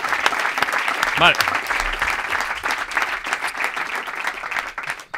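A TV studio audience applauds with sustained, dense clapping throughout, with a brief voice speaking over it early on.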